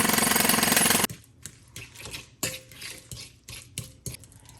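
Biscuit dough mixture for chicken-stuffed biscuits, seasoned with pepper and grated onion, stirred in a bowl: a loud scraping rush at first, then a string of irregular clacking strokes of the utensil against the bowl, close and clear.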